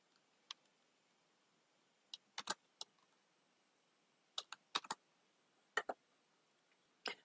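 A computer keyboard being tapped to type a caption, heard as sparse, quiet, irregular key clicks in small clusters against a near-silent background.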